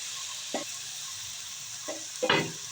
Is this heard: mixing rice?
yes